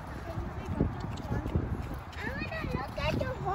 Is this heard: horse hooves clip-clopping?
yes